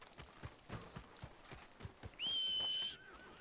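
Horse in the Red Dead Redemption 2 video game, a steady clip-clop of hooves in a loose rhythm, then a short whinny near the end, fairly quiet.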